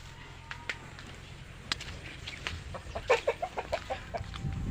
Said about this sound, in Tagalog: So yung nag-iingay ng ating gangsa.